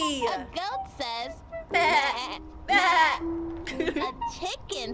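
A human voice imitates a goat's bleat with several wavering, quavering cries over a few seconds, loud and close, broken by short gaps.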